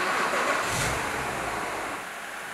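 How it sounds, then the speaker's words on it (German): A BMW 5 Series E61 estate with a ZF 6HP26 automatic gearbox idles in a workshop during a transmission oil check. The engine hum is soft and steady, with a faint airy hiss above it and no talking. "Dazu müssen wir das Fahrzeug laufen lassen"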